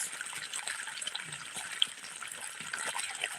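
Irrigation water runs into a farm field in a faint, steady trickle and gush, a soft continuous flow with no talk over it.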